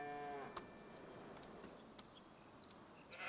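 A cow lowing on a Missouri farm, one drawn-out moo at the start, then faint scattered farmyard noises and small knocks under a quiet outdoor background.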